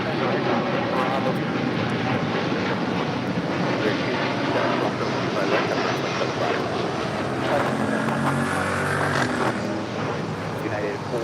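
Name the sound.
airliner engines at LAX airport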